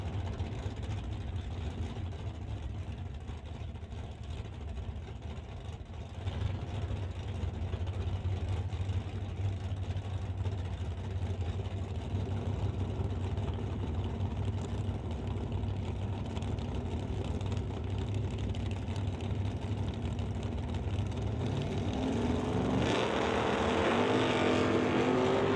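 A Chevy Nova and a Ford F100 shop truck line up at a drag race, engines rumbling steadily at a distance for a long stretch before a louder roar builds near the end as they launch.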